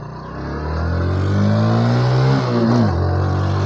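A 125 cc motorcycle engine revs hard in second gear, its droning pitch climbing steadily, dipping briefly at a shift-like break, then rising again, loud and close with no talk.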